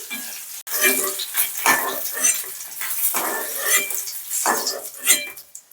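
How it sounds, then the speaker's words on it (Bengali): A metal spatula scrapes and clinks against a wok in a run of uneven strokes as fried eggs are lifted out, with a faint sizzle of hot oil underneath. "ডিমগুলো ভাজা ভাজা হয়ে গেছে এবার তুলে নিচ্ছি"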